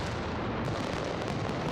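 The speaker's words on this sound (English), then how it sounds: "Valencia launches one of Europe's greatest aerial firework barrages" Aerial firework barrage at Las Fallas in Valencia, a dense, continuous roar of overlapping booms and crackles with no gaps, loud and sustained throughout.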